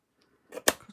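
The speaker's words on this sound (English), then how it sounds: "I'm going to cut it off" Scissors snip away loose hanging paper while making a decoupage tag for a junk journal, a single quick close cut with a soft rustle of paper just before it, otherwise quiet.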